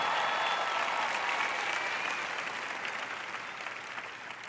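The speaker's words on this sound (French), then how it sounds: "Allez, acclamez Dieu." A church congregation breaks into loud, sustained applause that fills the room, a dense wash of clapping hands fading slightly toward the end, with no speech over it.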